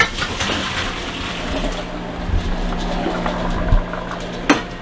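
Hot water pours from a cooking pot into a colander while Thanksgiving dinner is being made, a continuous near splashing rush with a few clunks toward the end.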